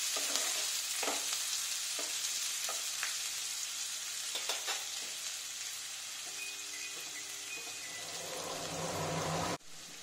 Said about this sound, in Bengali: পেঁয়াজটা ভাজতে ভাজতে